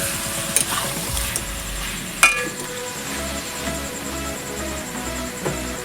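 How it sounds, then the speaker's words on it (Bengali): Chicken curry frying on medium heat while being stirred, with a continuous sizzle, scraping strokes of a spoon in the pot and a sharp metallic clink partway through, close and clear without speech. "এখন মিডিয়াম আঁচে আমি এইটা কষিয়ে নেব"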